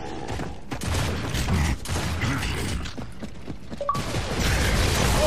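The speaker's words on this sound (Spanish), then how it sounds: "¡Lanzando granada!" Grenade thrown and exploding in the video game Gears of War 3: a cluttered mix of mechanical clanks and crashing bursts, then a loud, broad blast near the end, fairly close and heavy.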